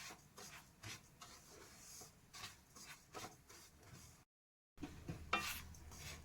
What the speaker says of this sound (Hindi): और सूजी को हम बराबर चलाते रहेंगे